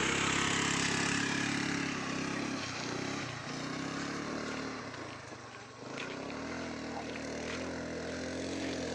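A motorbike engine drones steadily during an off-road ride, loud and close with wind rush, its tone dipping briefly midway before settling back into a continuous roar.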